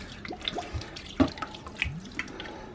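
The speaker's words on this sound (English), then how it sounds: "Plenty of water in the bottom" Water poured into the bottom of a propagator tray, soaking a capillary mat for raising seedlings; light trickling and splashing with scattered drips, close by and fairly quiet, no talking.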